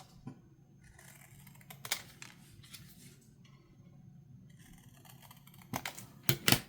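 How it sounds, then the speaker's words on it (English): Scissors snipping paper tickets for a craft zine: faint, scattered cutting clicks with a few louder, sharper snips toward the end, close up and without talk. "We're going to cut up some of our tickets."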